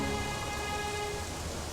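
Steady rain falls outdoors in a continuous, even hiss that fills the whole scene, with no voices heard over it.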